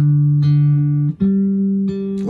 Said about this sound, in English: If you tune your guitar like this,